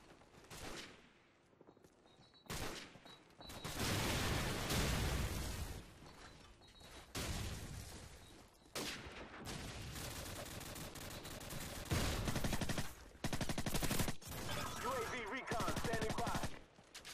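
Gunfire from Call of Duty 4: Modern Warfare, with sustained bursts of rapid automatic fire broken by short pauses and a few sharp single shots, loud and dense throughout.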